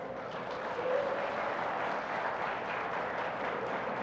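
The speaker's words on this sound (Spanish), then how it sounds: "Un aplauso, por favor." An audience at a live podcast recording applauds as a faint, steady wash of clapping that holds throughout without a break.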